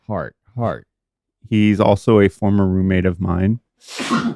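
Someone speaks in a podcast studio, and then one loud, breathy sneeze bursts out near the end, close to the mic.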